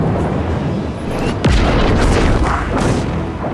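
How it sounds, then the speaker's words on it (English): Dark projectiles are fired at the player in Alan Wake 2, heard as a booming impact with a falling whoosh partway through, over a dense, loud, rumbling wash of noise, with no talking. "Is someone like firing black stuff at you? dark projectiles."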